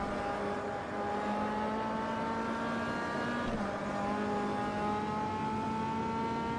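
MCR 2000 race car in the sim racing game Automobilista at the Brasilia circuit, its engine holding a steady high-pitched drone with a brief dip and shift midway, loud and continuous with no talk.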